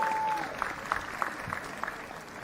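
Applause from a graduation ceremony crowd at Howard University, honoring the Board of Trustees; scattered claps rise faintly over a distant, reverberant hall ambience with a brief tone at the start.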